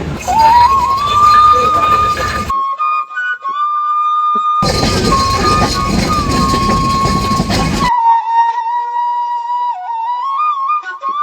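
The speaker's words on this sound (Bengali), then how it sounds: "ভেড়ামারা ট্রেনও চলে আসছে" A train pulling into Bheramara station, loud and close, with rumbling wheels and carriages, a sustained horn tone running through most of the stretch, and brief quieter gaps between heavy passes.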